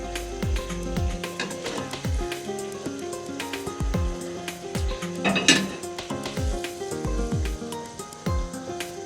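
Spice paste for tuna fish bhuna sizzles in a pan while a metal spoon repeatedly scrapes and clinks against the pan in an irregular rhythm, close and moderately loud, with no talking.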